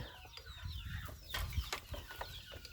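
Chickens cluck and peep close by in short, repeated calls over a low background rumble.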